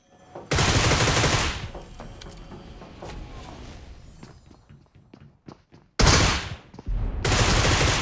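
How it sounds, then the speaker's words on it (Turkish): AWM sniper rifle fire in a video game: loud, sustained blasts of gunfire open and close the passage, with quieter scattered clicks and thuds in between and no talking. "şurada uzaktan AVM sıkıyorlar"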